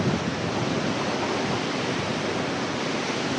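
Strong wind sweeping across an open meadow, a steady, dense roar buffeting the microphone without let-up.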